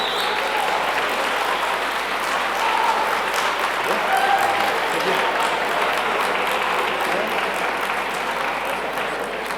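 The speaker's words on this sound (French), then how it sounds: "Nous applaudissons." A gala audience of the African Group at UNESCO applauds in a loud, sustained burst of many clapping hands that stays level throughout, with faint murmuring voices mixed underneath.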